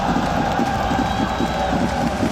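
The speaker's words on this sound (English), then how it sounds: "The crowd here is electric." Spectators at a Rocket League esports championship event roar in a dense, continuous wall of cheering and crowd noise that stays loud throughout, with voices blended into the din.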